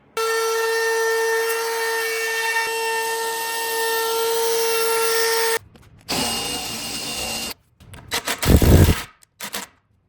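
A router fitted with a 1/4 inch roundover bit cuts a profile along a wooden sign edge, a loud steady whine with a strong tonal hum for about five seconds, then several shorter bursts of cutting and handling noise separated by pauses.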